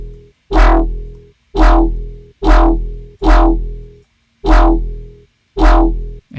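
A synth patch shaped with phase distortion plays six evenly spaced, punchy notes with a bright, buzzy attack that decays quickly, separated by short silences, with no voices.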